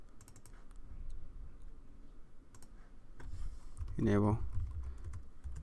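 Keys clatter on a computer keyboard in quick bursts during network switch configuration, fairly faint clicks scattered through the clip as someone speaks briefly.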